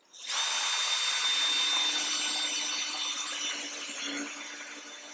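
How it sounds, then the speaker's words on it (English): A power drill whirs steadily as it bores into material, the motor loud and close, easing slightly in pitch near the end as the hole finishes. "get the drill going, and then I'll bring more pressure on, finishing the hole"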